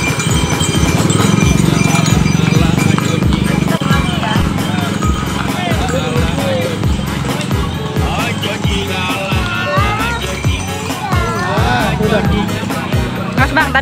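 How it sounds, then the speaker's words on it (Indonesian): A white horse clip-clops along, its hooves striking in a steady, even rhythm throughout, mixed with a busy background and people talking nearby. "Ini dia kudanya, sudah datang."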